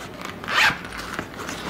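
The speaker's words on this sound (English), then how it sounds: "It's got the side zipper" A zipper slides along the side of a cosmetics pouch being packed for a move, one short, close rasping pull rising to a brief peak, then fading into quiet handling noise.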